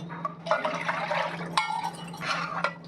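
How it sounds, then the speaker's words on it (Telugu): Water poured into thickened, beaten curd to make buttermilk, a close, steady liquid pouring and splashing sound with a few brief surges, no talking. "ఇంకా కొంచెం వాటర్ పడతాయండి."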